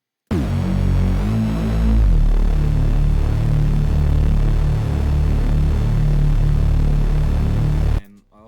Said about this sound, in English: here's the Reese bass that I made